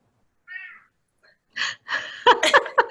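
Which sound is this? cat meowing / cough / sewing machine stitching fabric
cat meowing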